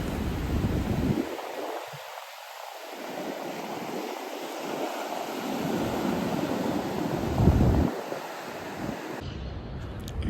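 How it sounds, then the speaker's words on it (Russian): Ocean surf rolls onto the beach at Cariló, Argentina, as a steady wash of waves under heavy gusting wind buffeting the microphone, with no voices. "давайте молча насладимся прекрасными видами и звуками океана"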